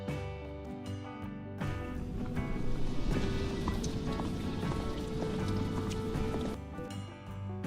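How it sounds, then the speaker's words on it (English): An AI-generated rain sound effect: steady rain patters on a surface, dense and close, with scattered droplet taps and a faint tonal hum underneath throughout. "and also the sound of rain."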